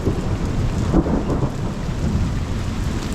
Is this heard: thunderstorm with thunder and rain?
yes